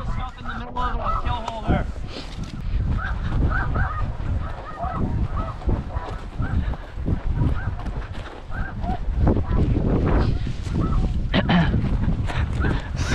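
Snow geese honking in a large, dense flock during a waterfowl hunt in Saskatchewan, Canada, with continuous overlapping calls near and far.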